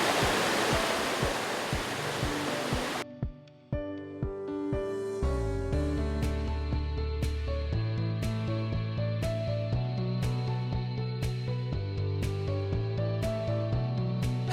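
Steady rushing water from a stream flowing over rocks fills the first few seconds, then gives way to layered music with sustained tones and regular bright accents.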